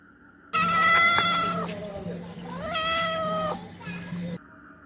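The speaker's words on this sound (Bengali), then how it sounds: "খুবই শান্ত প্রাণী বিড়াল" A house cat meowing loudly and close, two long drawn-out wailing meows separated by a short pause, over a faint steady background hum.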